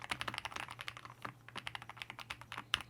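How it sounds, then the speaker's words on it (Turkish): Rapid clicky typing on an Ajazz AK820 Pro hot-swap mechanical keyboard, close and fairly quiet, with uneven bursts of keystrokes and a few louder taps. "Klavyenin ses testlerini de bu şekilde yapmış olduk."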